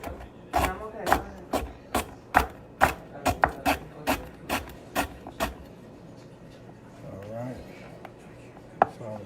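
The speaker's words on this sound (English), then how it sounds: "So I'm chopping it all up" A knife chops food on a cutting board in about a dozen quick, sharp knocks, evenly paced at first and then slowing, with a quieter stretch and one last chop at the end.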